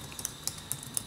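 Keys on a computer keyboard are tapped in a short run of soft, evenly spaced clicks, close but quiet, with no talking.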